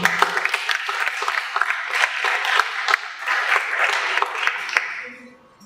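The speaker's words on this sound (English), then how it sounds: "let's just have a round of applause, please, for the speakers who are coming" Conference audience in Dubai applauding speakers as they come up, a steady patter of many hands clapping at moderate distance that tapers off at the end.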